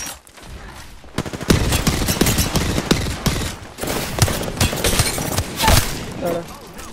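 Rapid bursts of automatic gunfire in a video game, loud and close, coming in dense overlapping volleys with brief pauses, while players talk over the shooting.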